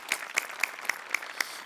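Six sharp, evenly spaced claps ring out on a TV comedy sketch show's stage, Maharashtrachi Hasyajatra, crisp and bright with a slightly tonal edge and no talk over them.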